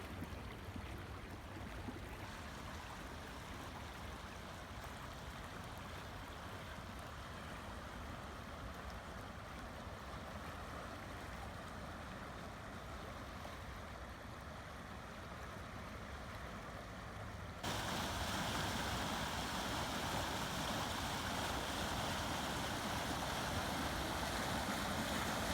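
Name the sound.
flooded creek flowing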